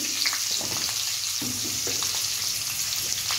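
Steady frying sizzle of turmeric in a hot pan with a few light stirring scrapes, close and continuous, no talking.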